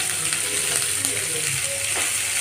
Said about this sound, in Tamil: நல்லா வதக்கிக்கலாம் வதங்கட்டும் பூண்டு இப்போ இவ்வளோ இஞ்சி பூண்டு சேர்த்துக்கலாம்